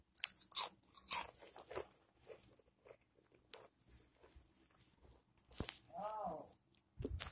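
Crunchy cheese bitten and chewed close to the mic, a series of soft crisp crunches with quiet pauses between them, with a brief murmur of a voice near the end.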